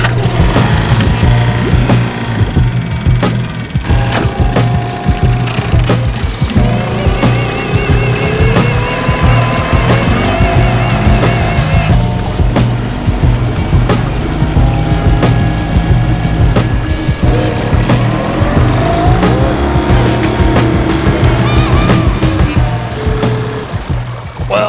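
Rebuilt outboard motor on a boat running during a test drive, a loud steady engine drone with shifting pitch throughout, mixed with water and wind noise.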